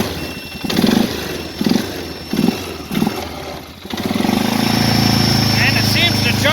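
A Polaris Sportsman ATV engine catches after cranking, with several rhythmic cranking surges giving way to a steady, close idle that holds to the end; someone talks over it.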